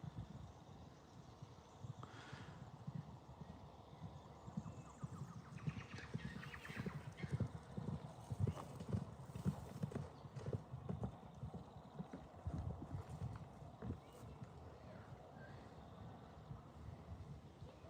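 A group of horses, including a retired racehorse, galloping down a paddock, hooves drumming steadily at a moderate distance, with a faint whinny among the hoofbeats.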